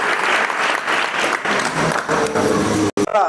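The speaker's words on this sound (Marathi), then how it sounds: "टाळ्या वाजून त्यांचं आपण स्वागत करतोय अभिनंदन करतोय" Loud, dense applause from an audience welcoming a contestant at a village quiz competition held for International Yoga Day, sustained for about three seconds, then breaking off abruptly as a voice begins.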